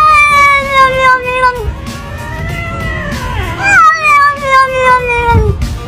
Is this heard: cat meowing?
yes